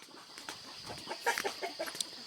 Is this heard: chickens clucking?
yes